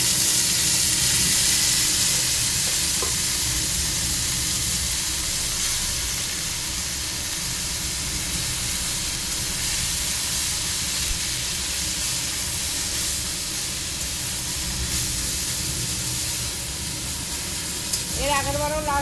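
Red saag greens fry with garlic in a hot pan, making a loud, steady hiss and sizzle that lasts throughout with little change. A faint chirp comes at the very end.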